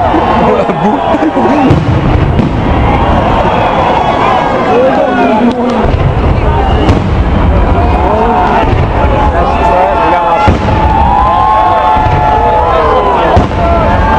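Loud New Year's Eve fireworks in Varna, Bulgaria, burst and crackle continuously, some booms close and others farther off, with voices and crowd chatter underneath.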